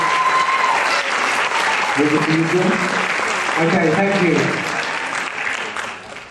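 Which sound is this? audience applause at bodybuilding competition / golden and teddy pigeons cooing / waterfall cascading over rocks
audience applause at bodybuilding competition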